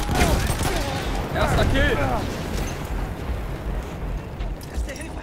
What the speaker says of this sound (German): Erste Granate.